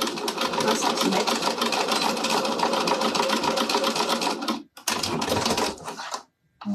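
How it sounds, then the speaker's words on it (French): A sewing machine running a 1 cm straight-stitch seam, a rapid, even mechanical whir with a fast needle rhythm, close and loud, pausing briefly twice before stopping near the end. "c'est parti pour une couture au point droit"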